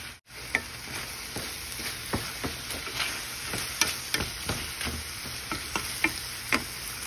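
Mushrooms stir-frying in a pan, a steady close sizzle broken by repeated scraping and clicking stirs of the utensil against the pan.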